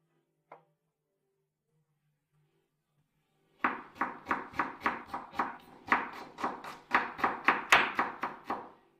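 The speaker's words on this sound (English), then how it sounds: "Cut the onion into small cubes." A knife chopping an onion into small cubes on a cutting board, a steady run of about fifteen crisp, close, evenly spaced cuts that start after a quiet pause and one earlier tap, with no talking.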